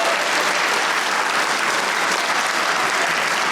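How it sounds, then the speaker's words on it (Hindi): Studio audience applauding a guest on a Hindi talk show, dense steady clapping that stays loud and close throughout, with no voices over it. "सब ऑडियंस में बैठे, इनके लिए तालियां होनी चाहिए"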